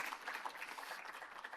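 Conference audience applauding at the close of a three-hour artificial intelligence conference, a short, soft burst of scattered hand claps from a room of people.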